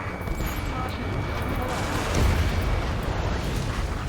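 Gunfire, explosions and the roar of jets during a night air battle over a city in the video game Ace Combat 7, a dense continuous rumble with a heavy boom midway.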